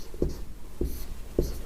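Pen or pencil strokes scratch across paper during a Hindi chemistry lesson on alkaline earth metals, three short, close, quiet bursts spaced about half a second apart with no talking.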